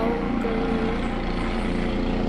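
A helicopter flies past a house, its steady rotor and engine drone loud and close, continuous throughout the short stretch with no clear talk.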